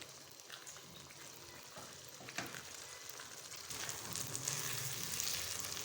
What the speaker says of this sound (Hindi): अब हम ऐड कर देंगे दलिया। अच्छे से बुनाई करेंगे